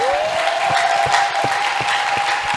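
A church congregation applauds loudly for the Lord: dense, continuous clapping throughout, with a steady faint ringing tone sustained underneath.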